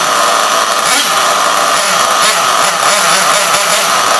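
A small nitro engine on an HPI Savage RC car buzzes loud and high-pitched up close, wheels spinning, holding a steady, raspy rev throughout with slight surges.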